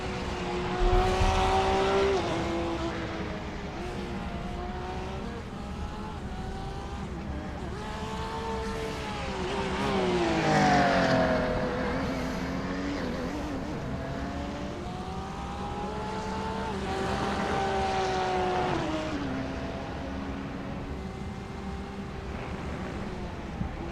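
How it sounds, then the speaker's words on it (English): GT3 race car engine from a sim race at Circuito Jerez on an out lap, its revs repeatedly rising and falling through gearshifts and corners, a moderate, continuous drone with no voices. "Here comes Kevin on the out lap, number 5"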